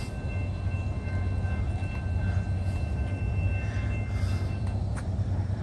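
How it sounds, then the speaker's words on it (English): A Norfolk Southern mixed manifest freight train led by an Erie Heritage locomotive rolls by with a steady low rumble and wheel hiss, sustained and fairly close, with no talking. "That is not a regular Norfolk Southern locomotive."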